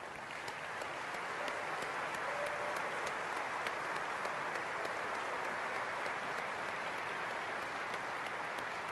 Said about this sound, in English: I'd like to give you a big round of applause